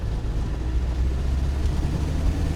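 A 1996 Land Rover Defender 110 with a 300Tdi engine accelerating in third gear, heard as a steady, heavy low engine drone with road rumble, continuous and fairly loud from inside the vehicle, with no talking.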